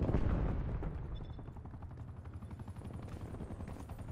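Attack helicopter in a military video game, its dense rotor thump running steadily under rapid bursts of gunfire, loud at first and then settling into a constant churning drone with distant shots.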